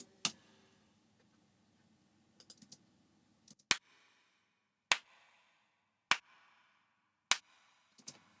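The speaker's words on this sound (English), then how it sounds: "So now those claps sound really good." Isolated hand claps with short fades, six sharp dry snaps spaced roughly a second apart over near silence, each cut off cleanly, with a few faint softer ticks between them.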